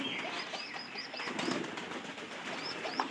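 Pigeons being fed extra food on a rainy day, with soft cooing and chirps over a low background, and brief bursts of wing flapping scattered throughout.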